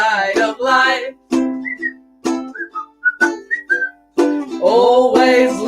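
A person whistles a melody in a short run of clear, bright notes at close range. A sung line comes before the whistling and another follows it.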